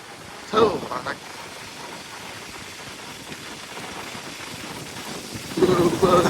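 Steady, dense heavy rain hisses throughout near Anekal, with brief bursts of voices near the start and end.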